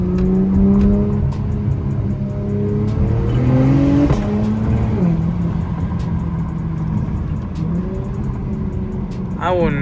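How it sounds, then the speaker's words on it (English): Acura TLX Type S turbocharged sedan exhaust rumbling steadily up close, with engine pitch rising and falling through revs over a continuous loud drone, with a person talking over it. "I will never get bored of the exhaust of this car."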